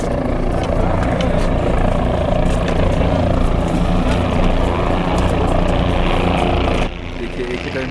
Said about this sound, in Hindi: देखिए एक ही टाइम में दो हेलीकॉप्टर का सर्विस चल रहा है।